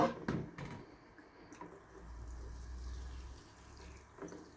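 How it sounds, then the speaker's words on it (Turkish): Hot water pours and splashes into a basin of soapy water holding toy animals, a soft continuous running and gurgling stream, fairly quiet, with a few clinks at the start. "Buna sıcak su koymamız lazım biraz daha."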